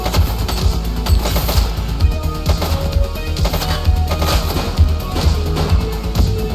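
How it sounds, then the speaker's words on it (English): Rapid gunfire from the video game The Precinct rattles in dense, continuous bursts, loud and close, with crashing impacts mixed in throughout. "He's shooting!"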